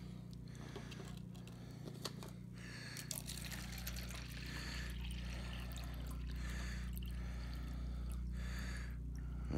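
Cold tap water is poured into a container to a marked line for mixing plaster of Paris, a steady close trickling and splashing stream that carries on throughout with gurgling bursts and no talking.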